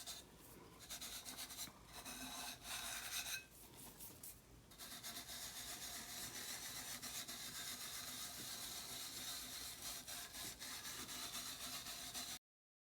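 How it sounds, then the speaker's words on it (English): Glitter being rubbed and burnished flat onto a tumbler cup by hand, a steady close scratchy friction sound with brief louder bursts of rubbing, no talking. "just burnishing all the glitter flat onto the cup"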